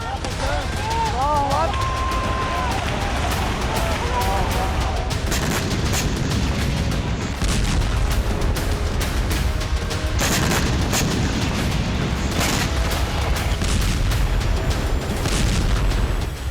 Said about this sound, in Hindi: इजरायली एयरफोर्स अब बेरूत में इस तरह से पिन पॉइंट अटैक कर रही है।